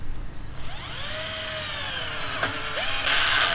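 A DCK KDJZ1202i 12V cordless drill drives a roofing screw into a steel C-channel, its motor whining upward in pitch as the screw runs in, then cutting out with a brief click of the torque clutch before a short final burst.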